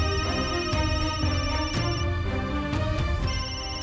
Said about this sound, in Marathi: शोभाताईचा फोन